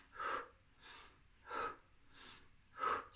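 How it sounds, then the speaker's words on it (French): Heavy breathing during a pilates arm and back workout: close, rhythmic breaths in a steady cycle, alternating stronger and softer, with no talking. "Ou alors, tu peux respirer de la sorte."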